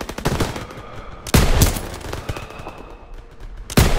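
Machine guns fire loud sustained bursts in Call of Duty: WWII, rapid rattling gunfire with heavy individual shots punching through at intervals, up close and dense.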